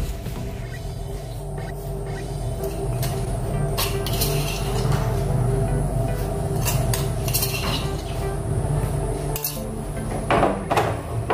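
Continuous wet stirring and clinking of a spoon against a bowl as rice and urad dal batter is mixed with spices, steady and close throughout.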